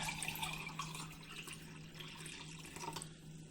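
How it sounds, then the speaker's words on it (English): Water trickles and splashes gently into a bowl of flour for roti dough, a soft, uneven pouring sound with faint drips, close by and alone. "Now we need to put in the water."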